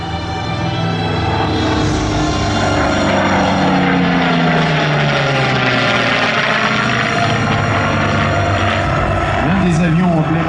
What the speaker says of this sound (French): c'est le Curtiss P-40, celui qui est au-dessus de nos têtes